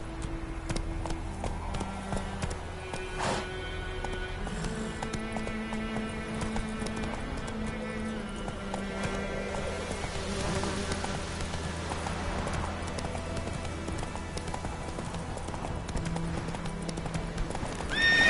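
Roach the horse galloping in a video game, with rapid rhythmic hoofbeats clopping steadily over sustained background music tones and no one speaking.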